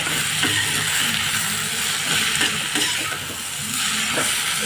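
Pre-fried okra (ladies finger) sizzling in a pan with egg, a steady hiss of frying with occasional stirring scrapes, close and continuous, no talk.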